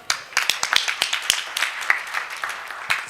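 An audience claps along at a sing-along gathering, with irregular sharp hand claps of mixed loudness and no talking.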